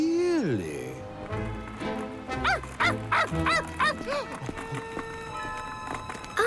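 A cartoon dog gives a few sharp barks in quick succession, mixed in with a person talking.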